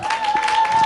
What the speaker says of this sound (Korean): 우리 크게 축복하는 마음으로 박수하면서 맞이하겠습니다